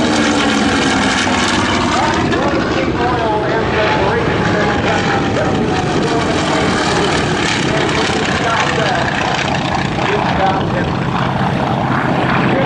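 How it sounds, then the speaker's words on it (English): A Wildcat warbird with a Wright 1820 radial engine drones loud and steady at the 2011 Fort Worth Alliance airshow, a continuous propeller roar with an announcer's voice faintly underneath. "those round radial engines on the Wildcat, that's a Wright engine again at 1820."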